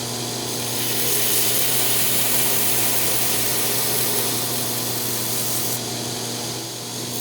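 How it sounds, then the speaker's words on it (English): A belt grinder running over a 10-inch contact wheel, grinding hollow bevels on soft, unhardened damascus steel chisels. It gives a loud, steady, close whine and rasp that holds for the whole stretch with no talking. "I use a 10 inches wheel on my belt grinder because I like the look of hollow bevels on a chisel."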